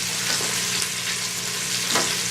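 Chicken pieces sizzle and fry in a pot for a chicken and dumplings broth, a dense, steady hiss close up with a few faint scraping stirs, and no talking.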